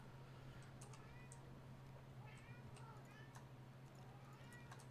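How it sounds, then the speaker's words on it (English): A cat meows repeatedly in the background, faint, short wavering cries scattered over a steady low electrical hum, with light clicks alongside. "he's still meowing in the background"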